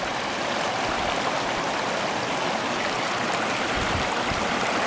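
Stream water flowing steadily along the Sycamore Reservoir Trail on Mt. Lemmon, part of the Arizona Trail, in wet January conditions; a continuous, close, full-bodied rushing wash with no talk.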